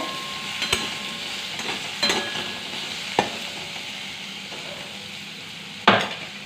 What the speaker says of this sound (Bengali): চলো আলুটা ভাজা হোক